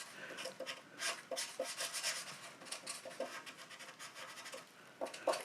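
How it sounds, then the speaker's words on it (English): A Sharpie marker rubs and squeaks across a printed template for a BB-8 skeleton part, with quiet, close scratchy strokes in uneven bursts. "that gives you an area that you want to color in with a Sharpie or something"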